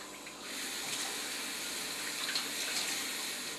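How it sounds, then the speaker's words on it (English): Water runs steadily from a tap into a summer drink made with frozen strawberries, a soft, even splashing hiss that starts after a brief quiet moment and continues without speech. "So you add your water."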